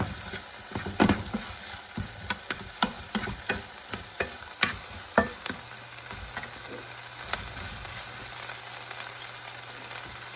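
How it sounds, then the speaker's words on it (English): Vegetables for broccoli cheddar soup sautéing in a tablespoon of butter, a low sizzle broken by a run of sharp spoon clacks and scrapes against the pot, close by, with no voice. "I might just do 1 tablespoon of butter right now for sauteing"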